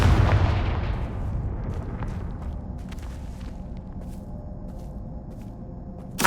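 A Confringo fire spell in Hogwarts Legacy bursts into a loud, deep explosion up close, then rumbles and fades into a long, crackling tail, with a sharp hit at the very end.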